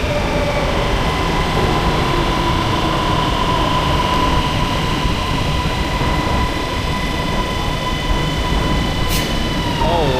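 A Bangkok metro train runs with a continuous loud rumbling roar and rising electric whine, close and sustained, with voices talking over it.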